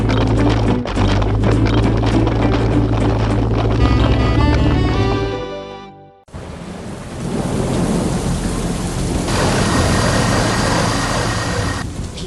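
A violent thunderstorm over a mountain peak: heavy rain roars steadily while thunder rumbles low and loud. A tonal layer sits under the storm at first, then a brief drop in level gives way to a sustained, dense downpour.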